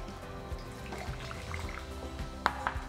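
Warm liquid is poured into a pan of potatoes in a home kitchen, making soft close trickling and bubbling splashes with a few small drips. The sound is quiet and steady.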